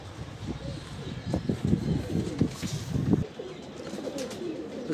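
Pigeons cooing close by, a run of low throaty coos for a few seconds before fading into quieter background.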